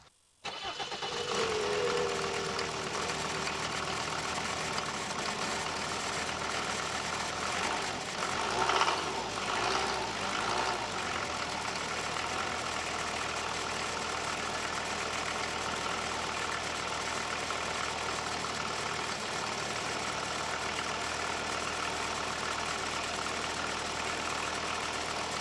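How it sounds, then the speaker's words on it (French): A Jeep Grand Cherokee WJ engine cranks and fires up, then settles into a steady, continuous idle with a low, even hum heard close for over twenty seconds. "Le moteur, je vais te le démarrer pour que tu puisses le regarder, l'entendre tourner un petit peu."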